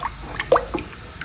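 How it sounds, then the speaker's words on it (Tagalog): Noodle water boils in a pan with seasoning added, giving quick bubbling pops and drips close up in a brief burst. "pakuluan ko lang. Kulo na siya."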